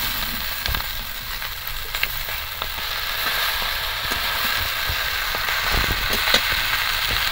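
Water spinach, potato and eggplant frying together with prawns and onion in a pan, giving a steady crackling sizzle with scattered sharp pops and light stirring, close and continuous.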